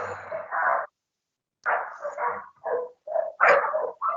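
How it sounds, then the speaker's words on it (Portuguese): A dog barks in a series of short, close barks with brief pauses between bursts, heard alone without talk. "olha o cachorro"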